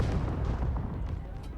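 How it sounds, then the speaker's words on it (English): Fireworks boom and rumble continuously in Marvel's Spider-Man 2, a dense low roar of bursts that stays close and loud throughout. "Look at the fireworks! That's pretty."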